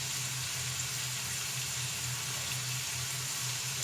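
Four chopped garlic cloves sizzle in a frying pan, a steady crackling hiss that holds evenly throughout with no voices.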